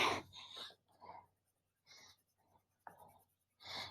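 Scratchy bursts of heavy-pressure coloring on paper while filling in a value scale, coming in short separate strokes with quiet gaps between them, close and soft.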